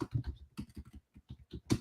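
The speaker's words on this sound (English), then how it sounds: "I'm just typing in our group" Fast keystrokes on a computer keyboard, irregular clicking bursts with short pauses, close and fairly quiet, no voices over it.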